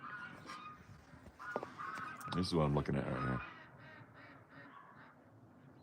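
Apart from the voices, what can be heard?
geese and ducks honking on a farm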